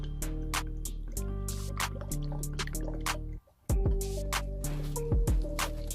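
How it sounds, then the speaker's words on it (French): Coolant glugs and bubbles through a funnel into a scooter's expansion tank with regular gurgling drips, briefly pausing before the bubbling resumes. "vous allez remplir le vase d'expansion avec le liquide de refroidissement"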